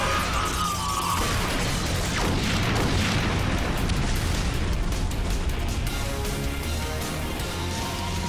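Giant robot weapon firing in a children's Power Rangers Megaforce battle, a dense, continuous roar of booms and crashing explosions that stays loud and full throughout without clear pauses.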